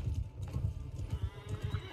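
Horses' hooves from the video game Mount & Blade pound in a rapid, rhythmic galloping clip-clop, steady and fairly close, with a faint whinny.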